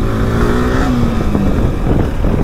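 A motorcycle engine drones steadily during a ride, loud and close, with a faintly rising tone under constant wind and road rumble.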